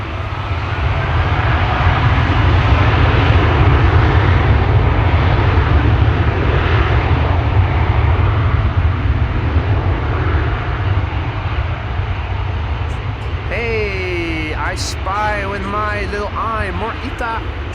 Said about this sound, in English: And that is a 767-300.